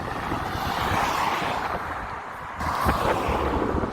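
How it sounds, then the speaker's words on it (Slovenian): Wind blows on the Atlantic coast at Porto, a loud, steady rushing roar buffeting the microphone, with a gust surging partway through. "veter piha"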